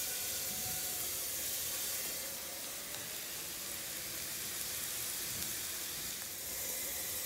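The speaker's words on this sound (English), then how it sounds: "I'm gonna saute the onions." Onions sauté in a hot pan for pasta with peas, a continuous bright sizzle and steamy hiss holding steady and close throughout, with no talking.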